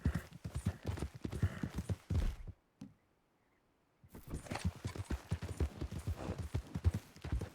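Horses in the video game Red Dead Redemption 2, rapid clip-clopping hooves at a gallop, loud and close, cutting out briefly to silence midway before resuming at a steady rhythm.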